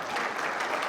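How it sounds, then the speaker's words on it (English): An audience applauds at the 2024 State of the City address in Whittier, California, a steady, dense wash of many hands clapping together, moderately loud with no break. "so clap, please."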